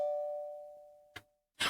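A doorbell in the Japanese visual novel Sympathy Kiss gives a single clear electronic chime that rings out and decays slowly, followed by two short soft thuds.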